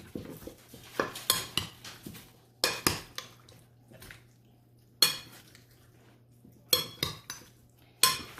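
Pork being stirred into a pineapple juice marinade in a bowl, with repeated clinks and scrapes of a utensil against the dish in short bursts separated by quiet pauses.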